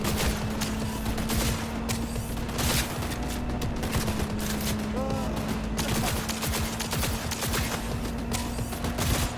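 Continuous rapid gunfire from a gun in Cyberpunk 2077 crackles through the whole stretch, dense and steady with layered game sounds, while a player talks over it.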